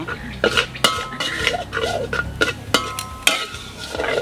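A utensil scrapes and clanks against a pan while stirring minced pork with water, in uneven strokes, with occasional metallic clinks and a faint sizzle underneath.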